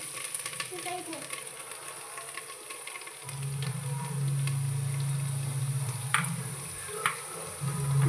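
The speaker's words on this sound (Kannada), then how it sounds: "ಇಲ್ಲಿ ತುಪ್ಪ ಹಾಕಿಟ್ಟಿದ್ದೇನೆ ತುಪ್ಪದಲ್ಲಿ ಸ್ವಲ್ಪ ಫ್ರೈ ಮಾಡಬೇಕು ಇದನ್ನು" Carrot frying in ghee gives a soft hiss at first, then a louder steady sizzle as it is stirred, with occasional scraping clicks of a utensil, close and fairly quiet.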